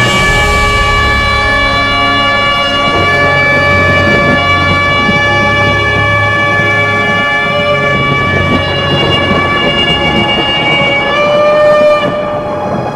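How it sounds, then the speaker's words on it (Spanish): A loud, sustained shofar blast with strong steady harmonics, swelling and holding for the whole stretch over a rumbling low backdrop. "Y un sonido de shofar muy fuerte que iba en aumento."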